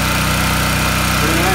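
A Wen 4050 generator runs close by at a steady, loud engine drone with an even, fast pulse, continuous and unchanging over a short stretch.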